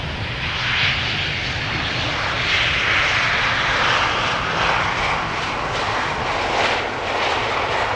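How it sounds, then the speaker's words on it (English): An Emirates SkyCargo cargo plane arriving at Amsterdam Schiphol Airport: a steady, loud, broadband engine roar that holds level for the whole stretch, with no voices. "That was Emirates Sky Cargo arriving from Dubai, flying towards the localizer base leg."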